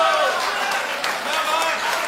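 An audience at a Hindi speech breaks into applause, a brief dense burst of clapping with crowd voices mixed in, sustained at a moderate level throughout.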